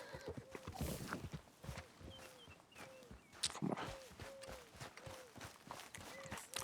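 Horse in Red Dead Redemption 2 clip-clopping along in a steady rhythm, with a short neigh, under a faint game score.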